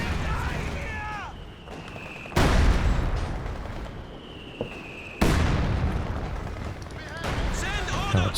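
Mortar fire in Company of Heroes 2 during a 2v2 match: two heavy, sharp blasts land a few seconds apart over a rumbling battlefield, with a voice talking throughout.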